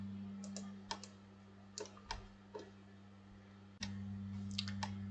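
Light mouse or keyboard clicks come in small clusters in CAD software, faint and close over a steady low electrical hum.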